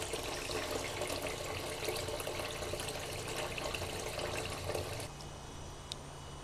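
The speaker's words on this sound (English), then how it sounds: "an experiment in long distance water pumping using a drill" Water pumped by a Wolfcraft 2200-000 drill pump during a long-distance field test, a faint continuous rushing, splashing flow that drops to a quieter trickle near the end.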